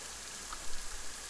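Steady rain falls in the dinosaur survival video game Saurian, a soft, even hiss of drops with a faint patter, quiet and unbroken throughout.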